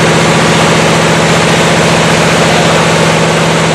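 An air-cooled single-cylinder diesel engine on a test bench runs at about 1450 to 1500 rpm, a loud, steady, rapid chugging throb with a strong low hum, continuous and alone.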